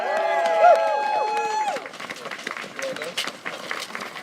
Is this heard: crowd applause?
yes